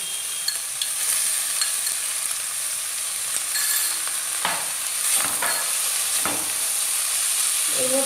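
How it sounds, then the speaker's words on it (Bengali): Chicken pieces sizzle in a pan with already-fried vegetables for chicken spring rolls, a close steady hiss broken by several stirring scrapes and clatters. "এবার এর মধ্যে আমি দিয়ে দিচ্ছি চিকেনের টুকরোগুলো।"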